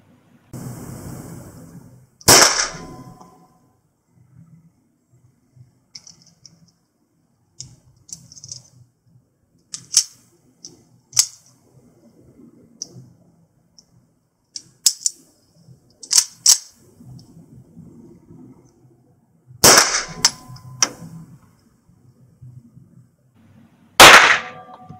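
Walther P-38 pistol shots ring out in sharp, loud, isolated cracks, with a few strong reports and several smaller clicks and clacks of handling between them over a long stretch.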